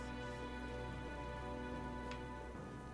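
Steady rain in the video game Metaphor: ReFantazio hissing continuously over a low droning hum, soft and even, with no voices.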